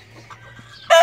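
An old fighting rooster gives a sudden loud, harsh cluck or squawk at the very end, after nearly a second of quiet background hum.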